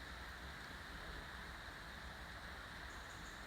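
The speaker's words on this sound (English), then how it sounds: "that sort of spitty rain" Light spitty rain falls as a faint, steady hiss of fine drops, unbroken and even throughout.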